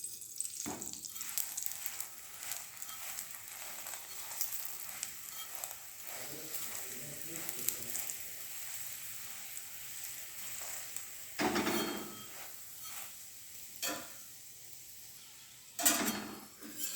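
Ghee sizzling in a hot pan while cooking paneer kulcha, a soft steady frying hiss with occasional louder crackling bursts and scraping, no talking.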